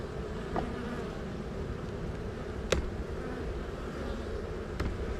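Honey bees hum in a soft, continuous buzz around an open hive box, with a few sharp clicks from handling the equipment.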